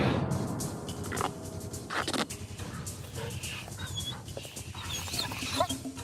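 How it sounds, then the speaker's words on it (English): A dog clamps its jaws onto a digital bite-force meter, with panting, low growling and whimpering sounds close by and faint human voices in the background. "Each dog is lured into biting the meter, and the force of that bite is measured."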